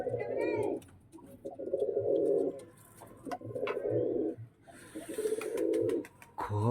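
Pigeons coo in their coop, a steady run of deep, rolling coos repeating close by, with soft rustling and scuffling between the calls.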